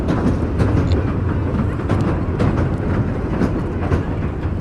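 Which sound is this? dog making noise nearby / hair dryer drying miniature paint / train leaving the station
train leaving the station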